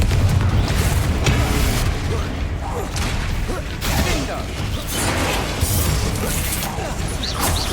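In the Hogwarts Legacy video game, the Confringo fire spell blasts with dense, loud rumbling booms and crackling debris across the whole stretch, one impact rolling into the next with a faint voice underneath.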